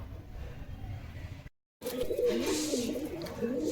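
Giribaj pigeons coo in a steady low murmur, loud and close, after a brief moment of silence near the start.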